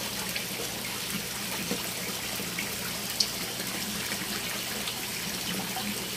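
Water gushes and trickles steadily while a tilapia fish pond is being refilled during a water change, a continuous mid-level splashing flow with no talk.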